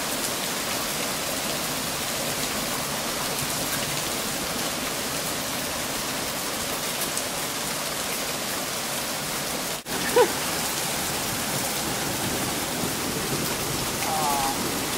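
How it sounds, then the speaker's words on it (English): Hail and rain pour down during a storm in Colorado, a loud, dense, unbroken patter that fills the whole stretch, with one brief knock partway through. "No, it's still hailing."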